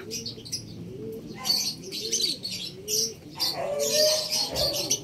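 Racing pigeons at a rooftop loft during a race arrival make soft cooing calls with chirps and bursts of wing flapping, fairly close and continuous, with no talking.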